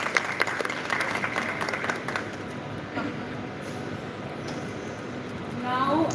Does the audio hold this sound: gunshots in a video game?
no